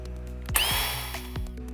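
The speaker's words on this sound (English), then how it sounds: "we're going to drill a hole on the side of the Scissor Lift" A power drill bores a hole into the side of a 24V Eagle 2 scissor lift, its motor whining close and loud with pitch shifting as it bites into the metal.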